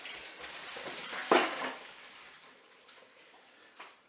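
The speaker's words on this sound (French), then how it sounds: "j'ai maintenant enlevé ma cuve du Cookéo pour égoutter mes pommes de terre" Boiled potatoes drained from the Cookeo cooking pot: a faint, close trickle of water with one brief louder splashing gush and light clinks of metal.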